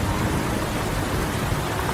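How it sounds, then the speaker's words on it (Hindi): Heavy rain pours steadily in a forest, a dense, even wash of drops filling the whole moment with no voices or other sounds. "तभी तेज बारिश शुरू हो गई।"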